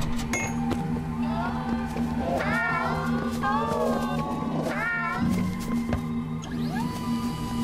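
Cats meow and caterwaul in the horror game Zoonomaly, several drawn-out wavering cries rising over a steady humming game soundtrack.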